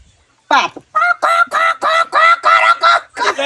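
A person imitates a duck's quack during a poolside animal-sound game, giving a close, loud series of about eight rhythmic nasal quacks after a brief pause.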